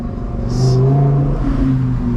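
An Audi R8 Performance V10 engine revs loudly while driving in winter, a dense rising and falling growl that sustains throughout, with a brief higher whirring swish near the start.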